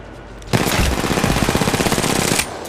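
Rapid automatic gunfire in the mobile battle royale game Apex Legends rattles in a loud, evenly spaced burst of about two seconds, close and alone with no voices.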